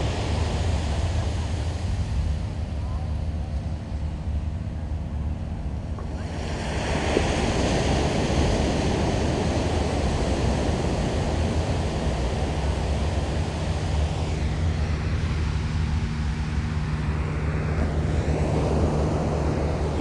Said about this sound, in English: And just listen to the sound of the waves.